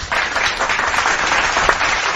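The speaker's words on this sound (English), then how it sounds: "So big shout out of applause to everyone," Applause sound effect of a dense crowd clapping, a bright, steady wash of hand claps kept at a loud level from start to finish with no voices over it.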